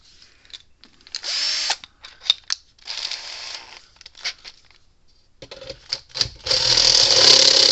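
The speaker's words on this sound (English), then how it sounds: "we're going to have to drill this hole out just a little bit more" A power drill whirs in short, stop-start bursts as a step bit enlarges a hole in the metal of a Hol-Dem Model 57 electric fencer, ending in one longer sustained run of drilling up close.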